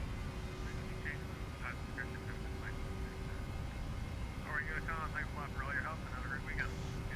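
A United 737-700 in the Prepar3D flight simulator at takeoff thrust: its jet engines give a steady, loud broadband roar throughout, with brief chirping tones over it.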